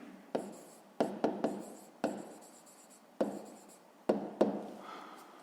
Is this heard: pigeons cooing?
no